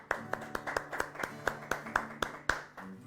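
A church congregation claps in acclaim of the Lord during a French worship service, with about a dozen sharp, fairly even claps over a low hum of background sound.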